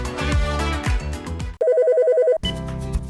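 A phone ringtone trills for under a second as a rapid, even electronic warble, loud and close, cutting sharply into the music that plays before and after it.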